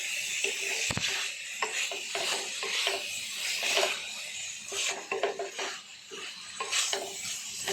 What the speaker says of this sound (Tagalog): lagay na natin yung toge. Tapos haluin na natin.